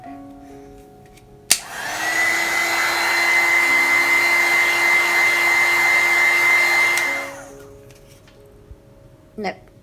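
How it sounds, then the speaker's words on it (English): A heat gun switches on with a click and blows hot air in a loud, steady whooshing drone for about five seconds, then cuts off and winds down, followed by a couple of small knocks. "one more blast with the heat gun"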